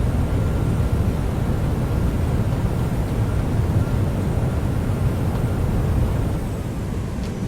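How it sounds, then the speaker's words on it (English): WestJet Boeing 737-800 in MS Flight Sim applying reverse thrust on landing, a loud, steady broadband roar of rushing engine noise that holds evenly and eases slightly at the end, with no talk. "Alright, reverse thrust sets."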